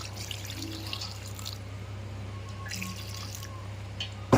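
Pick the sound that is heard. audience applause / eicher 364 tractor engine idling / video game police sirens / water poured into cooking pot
water poured into cooking pot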